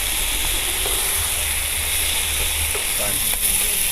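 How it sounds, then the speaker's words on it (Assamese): Taro pieces frying in a pan give a steady, dense sizzle and hiss, close and fairly loud, with a few faint stirring knocks throughout. "এনেকৈ মই ভাজি ল'লোঁ"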